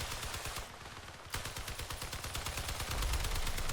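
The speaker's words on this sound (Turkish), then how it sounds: "Bak bak bak köprüden sıkıyor" Rapid automatic gunfire in the vehicle combat video game Crossout, a dense continuous rattle of shots with a brief lull before the firing resumes louder, with no talking.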